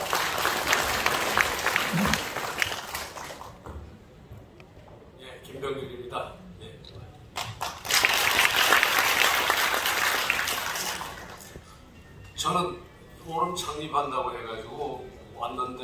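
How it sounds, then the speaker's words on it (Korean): Bursts of audience applause at a founding forum as a politician is welcomed, two strong spells of clapping broken by stretches of someone speaking over a microphone. "큰 박수로 함께 해주시기 바랍니다"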